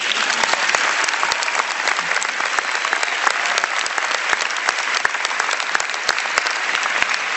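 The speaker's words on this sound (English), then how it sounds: "You can applaud that." Crowd at a college commencement ceremony applauding, a loud, dense and unbroken roar of many hands clapping in a large space, holding steady for several seconds.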